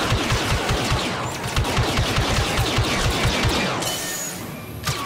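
Rapid automatic gunfire from the Star Wars Battlefront II video game, loud sustained bursts of closely spaced shots with a brief pause before firing resumes near the end.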